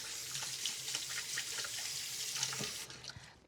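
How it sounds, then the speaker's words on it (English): Hands being washed under a running kitchen tap, a steady hiss of flowing water with small splashy fluctuations, moderately close and continuous, easing off near the end. "Let me wash my hands."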